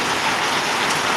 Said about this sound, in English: Watching the rain come down.